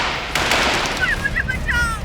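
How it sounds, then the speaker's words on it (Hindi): Gunfire in a jungle attack from a CID television drama, with alien laser-gun monsters. A couple of sharp, loud bursts are followed by thinner whining tones and a steady background rumble. "इतनी गोलियां क्यों चला रहे हो?"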